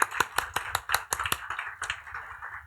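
A church congregation in Jakarta claps during a Sunday worship service, with scattered sharp hand claps that start uneven and merge into a light patter, fairly close and with no talk over them.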